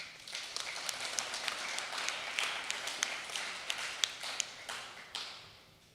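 Steady crowd applause, many hands clapping together at a moderate distance, sustained for several seconds without pause.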